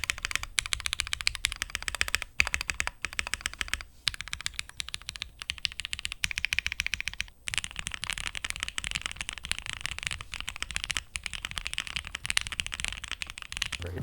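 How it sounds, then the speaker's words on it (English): Rapid, steady typing on a Thera75 mechanical 75% keyboard, crisp close-up clacks in a fast continuous stream with a few brief pauses and no voices. "but now the typing experience is a little bit stiffer"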